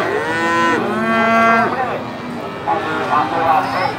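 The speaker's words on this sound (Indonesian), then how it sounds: "Suasana Pasar Sapi Ngawi pada hari ini sangat ramai lur." Cattle moo loudly and repeatedly at the crowded Ngawi cattle market in East Java, long drawn-out calls from close by over a low bustle of market noise.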